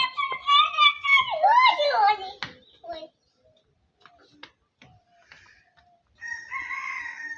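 A chicken crows in loud, close bursts as it is let go outdoors in a village, its calls overlapping with excited children's voices, then a short clucking phrase returns near the end.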